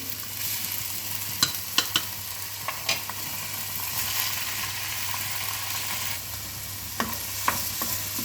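Ponni rice stirred as it fries in a pan for Hainanese-style chicken rice, a soft steady sizzle with occasional sharp clicks of a utensil on the pan.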